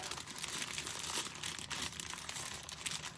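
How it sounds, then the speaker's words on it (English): Close, steady crinkling of a soft plastic sandwich bag being handled, a continuous rustle with small crackles and no voices. "the sound of crinkling plastic seems to..."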